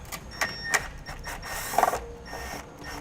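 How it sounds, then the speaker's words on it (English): Phillips screwdriver backing a screw out during fitting of a Blue Ox base plate kit on a 2018 Chevrolet Sonic, a few close, soft ratcheting clicks and scrapes in quick succession. "we'll go ahead and grab a Phillips screwdriver and pull that out"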